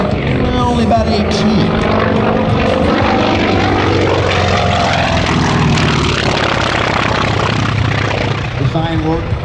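A Grumman F4F Wildcat warbird propeller fighter flies an aerobatic routine at an airshow, its loud radial engine roaring continuously and shifting in pitch as it dives and climbs.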